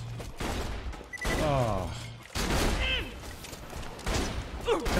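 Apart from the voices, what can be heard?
gunfire from enemies in video game Borderlands 2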